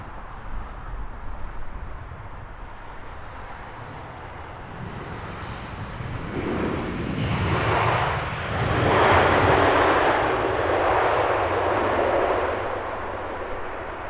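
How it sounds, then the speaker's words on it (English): American Airlines Boeing Dreamliner at Heathrow Airport, a loud jet engine roar that builds and swells in the middle as the plane passes, then holds as a broad rumble with no talking. "with an American Dreamliner"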